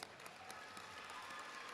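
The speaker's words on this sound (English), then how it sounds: "That deserves a round of applause." A graduation audience at a school stage ceremony applauds in a brief, faint, steady wash of distant clapping.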